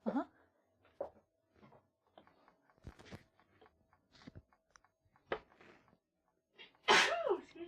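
A loud, sharp sneeze bursts out near the end of a quiet livestream segment of pancake art, preceded by scattered soft clicks, faint handling noises and brief bits of voice.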